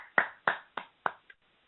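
Applause for a pair of wrestling performers, heard as five sharp, evenly spaced claps over under two seconds, the last one fainter and cut short.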